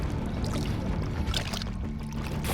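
A steady, low motor rumble runs through the whole stretch, a boat engine gassed in neutral with splashy water texture over it, fairly close and loud.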